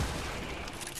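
A quick burst of gunfire in the Fortnite video game, a dense rattle of shots that fades within a second, no speech.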